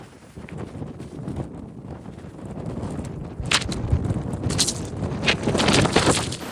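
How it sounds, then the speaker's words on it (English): Wind blows across a hilltop in Stanley, Tasmania, a steady rough rumble battering the microphone that grows louder and gustier toward the end, with no voices. "It's a bit windier up here."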